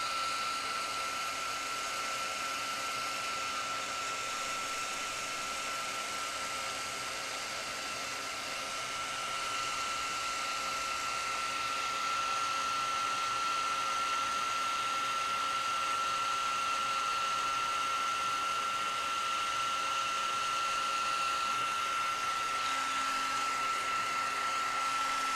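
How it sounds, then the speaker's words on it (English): A heat tool for melting embossing powder in paper stamping runs as a steady, even blowing whir with a faint high whine, unbroken and fairly close for the whole stretch. "Now I will get my heat tool warmed up and we'll melt this powder."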